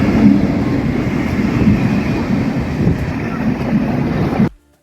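A train pulling into a station on the way to a Kali temple fair, with a loud, steady low rumble and rush held throughout before it cuts off abruptly.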